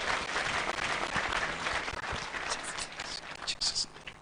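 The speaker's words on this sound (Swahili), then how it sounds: "Pigieni Mungu makofi." Congregation clapping for God during a burial service in Subukia, a dense round of applause from a crowd, moderately loud and sustained for a few seconds with some scattered louder claps toward the end.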